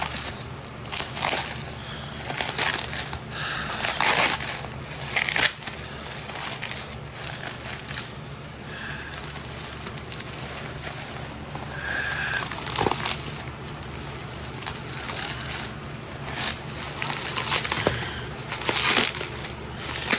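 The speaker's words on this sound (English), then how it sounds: "Let's rip it apart. Bubble wrap." Continuous crackling and popping as bubble wrap is torn apart, irregular snaps and crinkles close by, with no talking.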